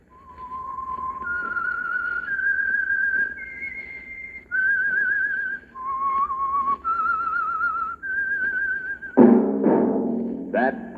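A clear whistled melody of held, wavering notes stepping up and down, the theme signal of the old radio mystery drama The Whistler, ending with a brief louder burst of other sound.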